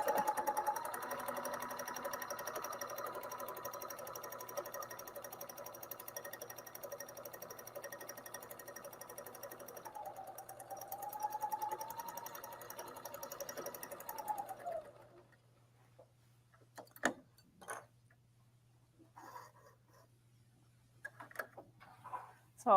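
A serger sews ruffled fabric onto a pillow panel with a steady, close, fast buzzing whir for about fifteen seconds, then stops, leaving only a few faint clicks and handling taps.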